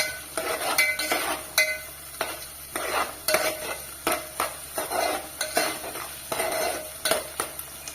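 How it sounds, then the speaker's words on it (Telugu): Onions fry in hot oil with green chillies, a steady sizzle broken by repeated rhythmic scrapes and clinks of a utensil stirring in the pan, close and fairly loud. "నెక్స్ట్ ఆనియన్ ఆనియన్స్ వేసి ఫ్రై అయితే చేద్దాం ముందుగా"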